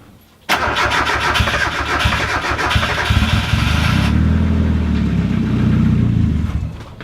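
A Mazda Miata drift car cranks and catches into a loud, close engine start, first a rough, choppy burst and then a steadier idle that runs on until the clip ends.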